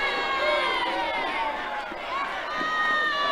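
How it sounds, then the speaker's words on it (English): A college softball crowd at Oklahoma State versus Arizona cheers and shouts loudly, a bright sustained roar of many voices that swells and dips slightly. "Here's a bit from the crowd here."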